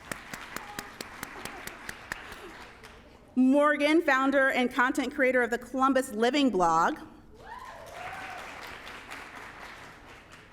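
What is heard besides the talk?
audience applause for panelists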